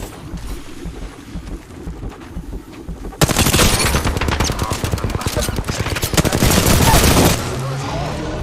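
Automatic gunfire in the online shooter Apex Legends, starting after a quieter stretch with a sudden burst of rapid, loud shots that continue densely for several seconds, then drop back to a lower rumble.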